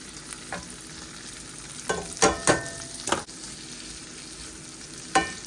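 Onions and mushrooms cooking in a pan with green beans, a soft steady sizzle underneath scattered clinks and scrapes of a utensil against the pan, close by with no talking.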